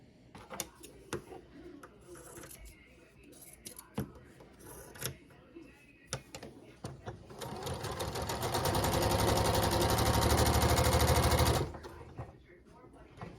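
A sewing machine stitches a raw edge appliqué, running in one steady loud burst of about four seconds after scattered handling clicks and light rustling, with brief talk around it.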